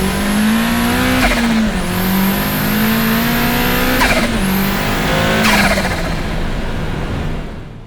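A 500HP Mazda Miata roars at full throttle, its engine note climbing steadily through the gears with quick dips at each shift, loud and close throughout.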